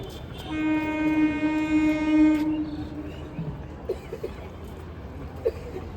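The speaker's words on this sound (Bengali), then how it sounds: "নামখানা যাওয়ার জন্য এই ট্রেনটা আসছে" A train bound for Namkhana pulls into a station, opening with a long, loud horn blast followed by a low rolling rumble of the approaching carriages amid faint platform chatter.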